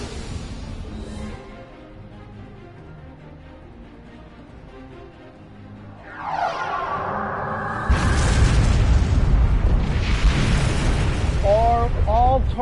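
Torpedo and laser fire in the space game Star Trek Online: a rising whoosh followed by loud, sustained booming explosions and zapping bursts, with a voice speaking underneath.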